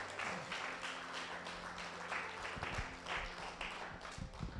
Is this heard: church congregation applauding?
yes